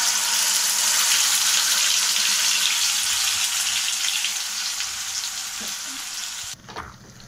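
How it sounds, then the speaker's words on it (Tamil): Ground sautéed onion paste fries in a pan with cumin and ginger-garlic paste, giving a steady loud broadband sizzle that softens slightly near the end, with a brief stir or clatter. "வதக்கி அரைச்ச வெங்காயத்தை ஆட் பண்ணிக்கலாம்."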